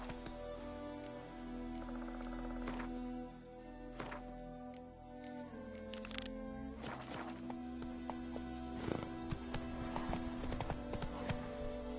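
Hooves of the horse Roach clip-clopping at a trot in Witcher 3, a steady rhythmic stream of close, clear hoofbeats mixed with game music and ambient tones.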